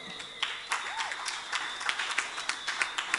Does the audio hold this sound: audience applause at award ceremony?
yes